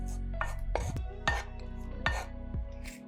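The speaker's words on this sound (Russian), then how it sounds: "У перца срезаем верхнюю и нижнюю часть." A knife slices through a bell pepper on a cutting board, giving about six crisp, separate chops with thuds against the board, close and clear in a quiet kitchen.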